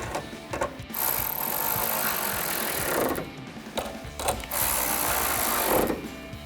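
A hand ratchet fitted with a 10mm socket turns a bolt on a Mustang trunk deck lid, giving repeated bursts of close, dry clicking that pause briefly between strokes.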